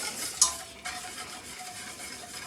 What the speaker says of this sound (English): keep stirring, because if you don't, that's it, it's going to burn